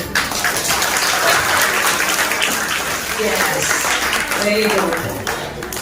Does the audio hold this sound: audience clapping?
yes